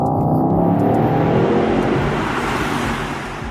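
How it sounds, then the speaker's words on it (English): A 617 horsepower Mercedes AMG GT 63 Pro with a 4-liter V8 drives through an empty road tunnel, its engine a loud, sustained, resonant drone with a slowly rising tone that fades a little near the end. "An empty tunnel with no other vehicles inside is the ideal setting to hear the 4-liter V8 sing."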